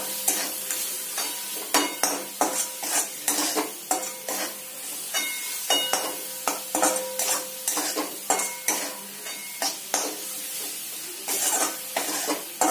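Rhythmic scraping strokes of a spoon stirring spiced pasta masala with coriander-cumin and red chilli powder in a frying pan, repeated clacks against the metal over a soft, steady sizzle.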